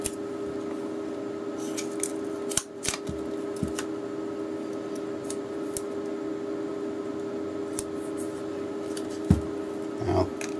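Scissors snip through double-sided tape and appliqué backing, producing a few faint, scattered cuts over a steady background hum.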